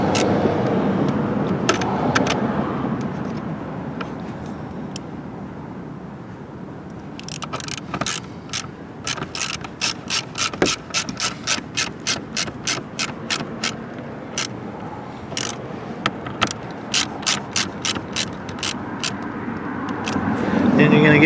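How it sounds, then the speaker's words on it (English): Rapid bursts of ratchet clicks tighten T15 bolts on the base plate of a 2022-2026 Cadillac CT4-V Blackwing, close and crisp in uneven runs, while someone talks throughout. "T15, and tighten those down real good, make sure it's secure"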